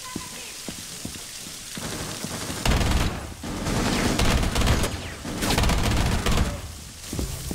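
Heavy sustained gunfire from the tactical shooter video game Rainbow Six Siege, dense rattling bursts that swell and fade in waves, loud and close, over faint earlier scattered shots.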